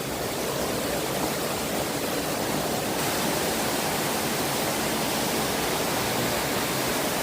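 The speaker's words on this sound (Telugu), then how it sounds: "ఈ వాటర్ ఫాల్ అయితే చాలా బాగుంది." Steady broadband rush of a waterfall in Meghalaya, heard up close with no voices, constant in level from start to finish.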